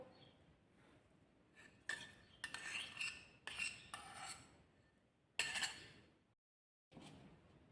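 A spoon scrapes and clinks against a bowl while batter is stirred with liquid margarine for Indonesian keciput cookies, in several close, uneven bursts with a brief silence near the end.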